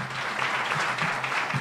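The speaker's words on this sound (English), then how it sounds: "Let's all welcome them with a great round of applause." An audience applauds to welcome a group of musicians onto the stage at a 2014 homage-to-guru concert evening. The clapping is steady, dense and moderately loud throughout the short stretch, with no voices over it.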